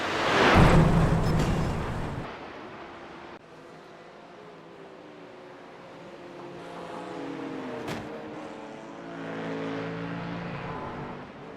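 A BMW bumps into another car during an endurance race at the Nordschleife in iRacing: a loud impact thump at the start, then engines droning and revving steadily, with a sharp click partway through.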